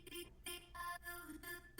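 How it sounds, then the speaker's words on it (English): Wide, phaser-treated synth sound from a dense electronic track mix in Ableton, sweeping in loud bursts with short gaps between, a rich hissy top and swirling mid tones, no talk. "And then you do this with the phaser, and it sounds like this"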